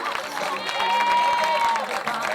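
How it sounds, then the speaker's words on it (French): A crowd applauds and cheers a runner who took second place in the 2015 Grand Raid on Réunion, a dense, sustained roar of clapping with an announcer's voice and a drawn-out call carrying over it. "Demandez de lui faire un tonnerre d'applaudissements pour un grand champion"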